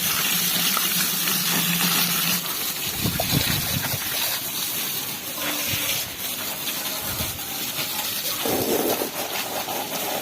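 Water washes over a Sanedo vehicle in a loud, continuous rushing splash that swells and shifts as the stream moves, with no voices.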